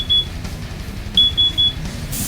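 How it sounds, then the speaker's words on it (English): A carbon monoxide alarm going off, emitting short high-pitched electronic beeps, one then a quick group of three, fairly faint against a low room background. "I cannot take 1 more minute of this carbon monoxide alarm going off"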